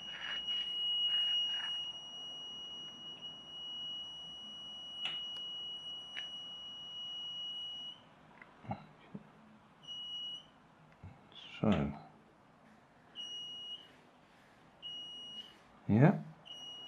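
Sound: DIY metal detector kit alarm sounding

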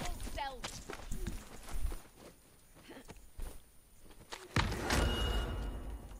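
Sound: footsteps in a shooter video game

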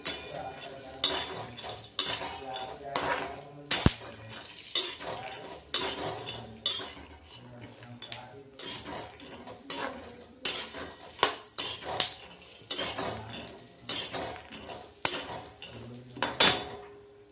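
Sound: roasting almonds with ghee, stirring in a kadhai

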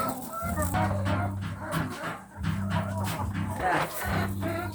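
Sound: chickens clucking while being unloaded

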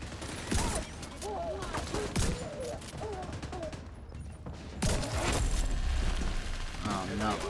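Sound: gunfire from the video game The Division 2

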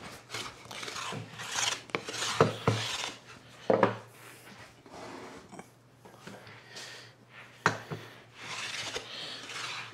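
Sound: tuned wooden hand plane skimming a waxed board

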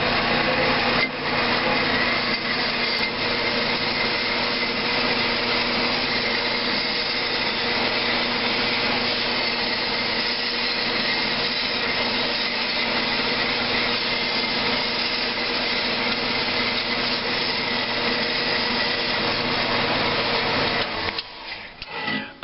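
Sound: saw blade cutting graphite anode

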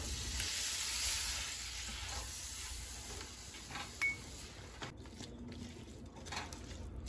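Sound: stirring flour and milk in a pan on high flame

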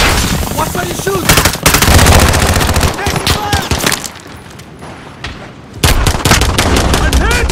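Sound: gunfire in Call of Duty: Modern Warfare, a video game

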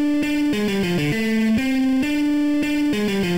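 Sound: guitar riff

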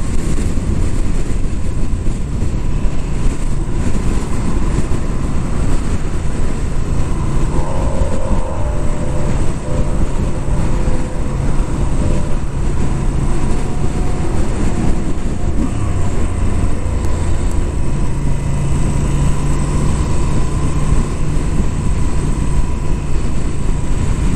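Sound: Moto Guzzi V7 850 Special V-twin motorcycle engine while riding

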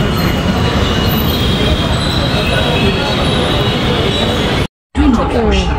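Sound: metro train arriving at station, wheels squealing

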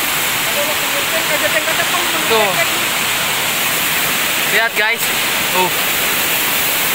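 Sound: waterfall seen from the top

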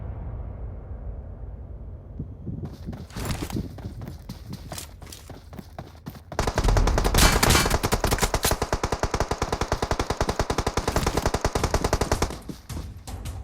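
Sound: gunfire in PUBG Mobile video game

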